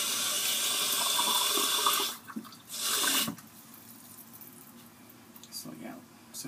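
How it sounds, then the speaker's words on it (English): A bathroom sink faucet runs for a couple of seconds, a bright rushing stream, then shuts off, followed by quiet handling noises. "So that's what you hear, my little faucet here."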